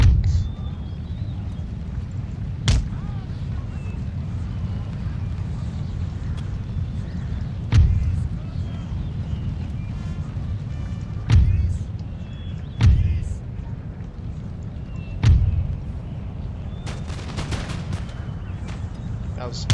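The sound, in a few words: musket volley fire in Empire: Total War video game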